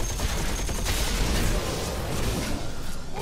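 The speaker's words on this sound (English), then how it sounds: "Watch this grenade" A grenade bursts in Heroes of the Storm, a dense crackling blast of noise that fills the whole clip at steady loudness before tapering slightly at the end.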